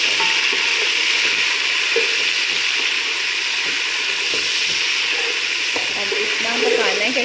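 Two finely chopped tomatoes fry loudly in a pot for a chicken pulao biryani, a strong, continuous, close sizzle with occasional stirring scrapes and no speech.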